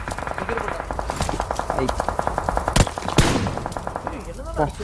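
Gunfire from an AWM sniper rifle in a video game, heard as rapid, dense repeated shots with a couple of louder cracks, over excited voices talking throughout.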